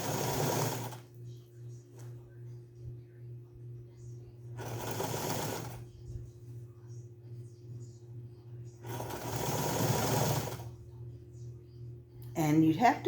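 A sewing machine stitches a sun bonnet in three steady runs of a few seconds each, with a quiet hum running through the pauses between them.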